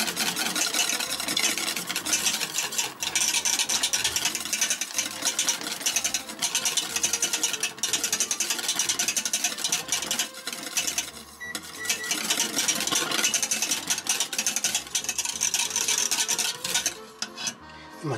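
A whisk stirs white béchamel sauce in a pot over low heat, making steady, brisk scraping and clinking for the whole stretch, close and fairly loud with no talking.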